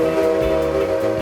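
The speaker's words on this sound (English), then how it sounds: "The whistle you can hear coming from this steam loco is made using compressed air." A steam locomotive's whistle at a Japanese railway museum, sounded with compressed air, blows a loud, steady, sustained tone close by from start to finish.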